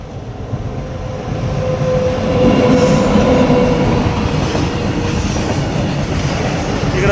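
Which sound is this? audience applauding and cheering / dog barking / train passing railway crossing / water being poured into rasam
train passing railway crossing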